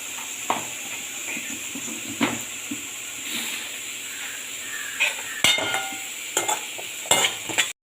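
Carrots and beans sautéing in a pan, a soft continuous hiss of frying with repeated spatula scrapes and knocks at irregular intervals, close by and without talk.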